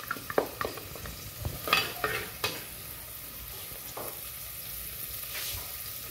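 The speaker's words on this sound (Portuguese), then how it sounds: "eu vou adicionar aqui a cebola no azeite. O azeite já tá quente." Onion frying in hot olive oil for chicken stroganoff, a steady soft sizzle with quick spatula clinks and stirring scrapes early on, close and fairly quiet.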